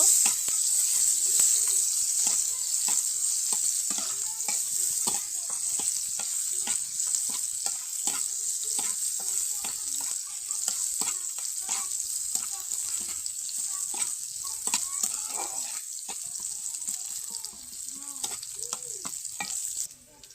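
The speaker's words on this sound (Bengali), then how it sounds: "রসুনটাকে লাল লাল করে ভেজে নিব" Garlic frying in a pan until reddish-brown for a mashkalai dal, a steady close sizzle broken by frequent spoon scrapes and clicks as it is stirred, with no one talking.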